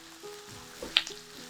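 Onions sautéing in a pan give a faint, steady sizzle with soft crackles and one brief brighter pop, heard close and quiet without talk.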